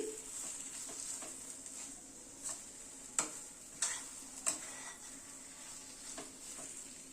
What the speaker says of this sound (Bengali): ধনেপাতাটা মিশিয়ে দিচ্ছি